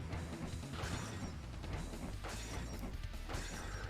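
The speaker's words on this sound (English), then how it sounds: "The sound of breaking glass for large energy orbs falling is very out of place." Breaking glass effect from large energy orbs falling in Blaster Master: Blasting Again, a few crashing shatters over a dense, busy game-sound bed, moderately loud with no speech.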